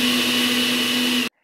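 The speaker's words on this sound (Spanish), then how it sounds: "cerramos la licuadora y a máxima velocidad vamos a incorporar estos tres elementos." A blender runs at maximum speed mixing sugar with other ingredients for a corn cake batter, giving a loud, steady high-pitched whine with a constant motor hum that cuts off abruptly near the end.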